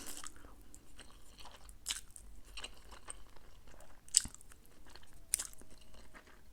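Close, crisp crunching and chewing of crunchy food during a mukbang, irregular bites and mouth sounds in a quiet room with no talking.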